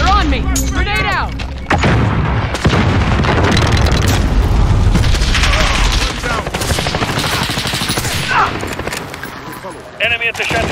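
A grenade blast in Call of Duty: Modern Warfare multiplayer, a loud booming burst set in continuous gunfire and battlefield chaos, with voices calling out over the din.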